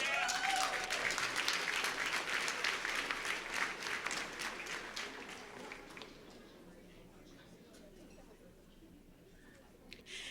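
Audience applause at a school district employee awards ceremony, loud and dense at first, then thinning and fading to a softer scattered patter over about ten seconds.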